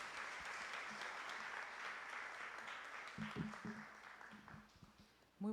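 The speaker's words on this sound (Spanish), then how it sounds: "Un aplauso para la doctora Tania Celina Vázquez Muñoz" An audience applauds at an event in a city council chamber in Veracruz. The steady, fairly faint clapping lasts several seconds and thins out toward the end.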